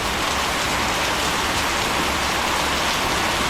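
Steady rain pours down on a farm in Thailand, a dense, even hiss of drops on surfaces that stays loud and unbroken throughout, with no voices.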